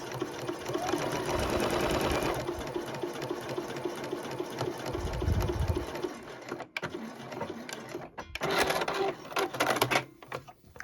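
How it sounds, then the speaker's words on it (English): A sewing machine stitching a drawstring waistband channel runs in a steady fast whir, briefly slows and stops, then restarts in short bursts, close and clear. "So I'm going to just run a couple of stitches, and I'm going to reverse, and then off we go."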